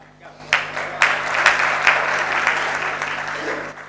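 A live audience at a Hindi poetry and song performance bursts into dense applause, starting with a few sharp claps and building into steady, close clapping that holds for several seconds before fading.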